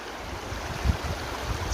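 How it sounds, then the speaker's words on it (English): A babbling brook in an alpine setting, flowing in a steady broadband wash with a low rumble, close and continuous, with no voices. "babbling brook"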